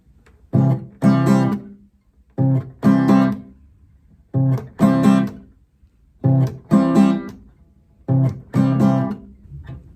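Cook Islands-style guitar strumming in a repeating pattern: a quick stroke then a longer muted strum, five times with short silences between, close and clear.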